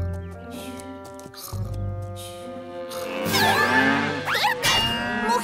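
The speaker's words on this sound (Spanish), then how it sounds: "¡Mugidos fuertes!" Cartoon cows mooing loudly at night on a farm; long, drawn-out moos layered over music and sound effects, with rising whistling tones near the end.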